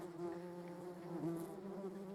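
Hornets and yellow jackets buzz steadily close by, a continuous droning hum with slight wavering pitch as they hover and move.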